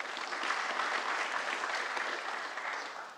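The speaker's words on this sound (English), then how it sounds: "let's give a big round of applause for our last sponsor" A conference audience at a tech monitoring event applauds a sponsor, steady broadband clapping from many hands throughout, easing slightly toward the end.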